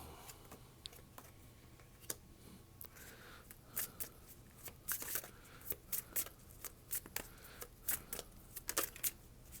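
Tarot cards being shuffled and handled in quick, soft rustling bursts that grow denser and louder over the second half, at close range with no talk.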